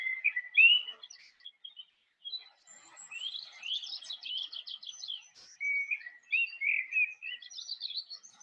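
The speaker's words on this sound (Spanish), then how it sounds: "Pinzones, mirlos y demás aves forestales siguen con su canción." Finches, blackbirds and other forest birds sing at dawn in the rain, a scatter of clear chirps, trills and whistled phrases, some near and some farther off, with quiet gaps between calls.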